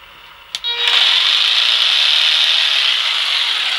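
A hand saw cuts wood for dovetail joints in a door frame during restoration of an 1875 Norwegian log house, a steady, close rasping stroke that runs continuously after a brief knock at the start.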